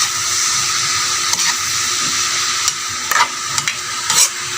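String beans sauté in a hot pan with a steady loud sizzle, broken by several sharp scrapes and clinks of a utensil stirring them.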